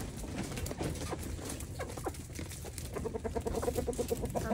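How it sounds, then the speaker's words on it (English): Farm chickens cluck softly in a barnyard setting, a scattering of short murmuring calls over low background noise, with a run of quick repeated clucks toward the end. "Happy chickens."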